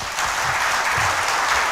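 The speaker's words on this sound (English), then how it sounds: "Give him a good applause here." An audience of about 500 at a sales team address applauds a shy 13-year-old speaker, a dense, loud, steady wash of clapping right from the start.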